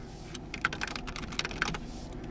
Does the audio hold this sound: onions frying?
no